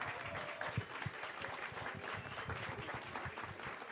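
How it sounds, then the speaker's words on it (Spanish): Audience applause at a Spanish-language science talk on Colombian dinosaurs: a quiet, steady patter of many hands clapping throughout, with a few sharper individual claps standing out. "Eso, un aplauso."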